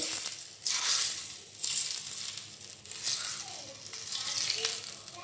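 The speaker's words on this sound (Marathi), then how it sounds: "मी कश्मीरी लाल मिरची पावडर घालून एक चमचा तेलामध्ये गरम करून घेतली आता ती घालून घेते" Hot oil mixed with Kashmiri red chili powder hits a pan of egg curry with a steady, fairly loud sizzle that flares in bursts over about five seconds, with faint rattling of cookware.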